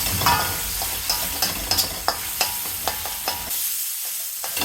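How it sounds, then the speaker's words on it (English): Finely chopped ginger and garlic sauté in two tablespoons of hot oil in a pan, a loud continuous sizzle broken by repeated scrapes and taps of a stirring utensil, with no voices. "Now add finely chopped ginger and garlic. Saute for 2 minutes."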